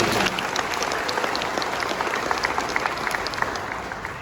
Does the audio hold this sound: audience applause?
yes